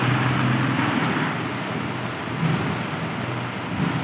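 Steady rain pours down with a dense hiss across the whole span, occasional low rumbles underneath, constant and fairly loud.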